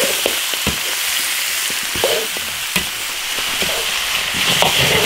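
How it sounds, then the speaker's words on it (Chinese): Raw yak ribs land in a hot cast-iron wok with oil and chili paste and set off a loud, continuous close-up sizzle, with a few sharp spatula scrapes and knocks against the pan. "牦牛排骨下进来。"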